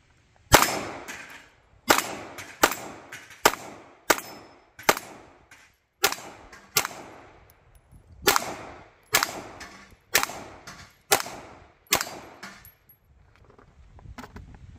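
A Sig Sauer P320 X-VTAC pistol fires a rapid string of about fourteen shots at steel targets, each loud crack followed by a short ringing decay, with no talk.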